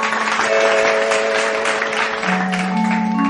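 A stage audience claps loudly and continuously for the singer, while sustained musical tones play underneath and shift in pitch near the end.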